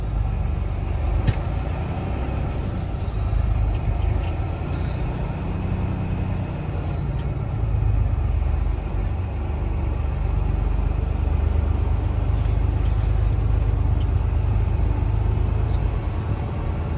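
Company semi truck cab rolling along with a steady, heavy low engine and road rumble throughout, close and unbroken, no voices.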